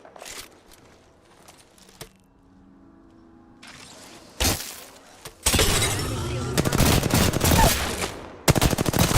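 Video game gunfire aimed at an enemy shield: a quiet stretch with faint tones and scattered shots gives way to loud rapid automatic bursts and sharp cracks in the last few seconds.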